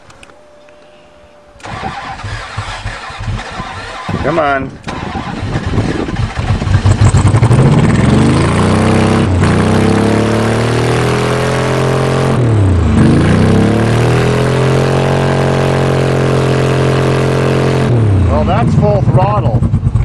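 A Ford F250 diesel truck engine cranks, then catches and roars up to a loud, steady run with revving, while a man mutters briefly under the noise.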